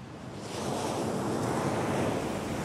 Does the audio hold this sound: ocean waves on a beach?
yes